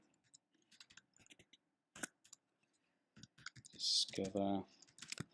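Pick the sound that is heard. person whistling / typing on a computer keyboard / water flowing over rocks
typing on a computer keyboard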